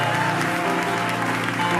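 A church congregation applauds during a Sunday morning service, a dense steady wash of clapping over a sustained musical tone, with faint voices mixed in.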